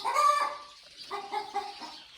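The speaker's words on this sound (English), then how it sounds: "we got chickens over there" Chickens cluck on a farm near a barn, a few close, fairly soft clucks and short calls in quick succession, with no talk.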